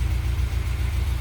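A Peugeot 307 SW with an antipollution fault idles roughly at its exhaust, a close, steady low rumble with a faintly uneven, limping pulse and no talk.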